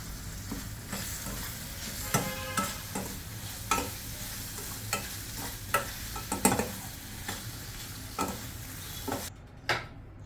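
Mushrooms sautéing with salt and pepper in a pan, a quiet steady sizzle broken by repeated scraping stirs and clacks of the spoon against the pan every second or so, close and without talk.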